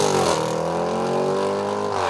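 A Jaguar F-Pace SVR's active exhaust gives off a steady throaty growl, close and moderately loud, with a brief rise at the start before it holds an even drone.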